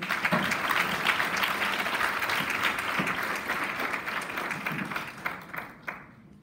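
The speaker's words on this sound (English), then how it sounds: "Please give him a huge round of applause." A school prize-giving audience claps for a grade 7 award winner, the dense applause filling the hall at steady strength before thinning and fading out over the last second or so.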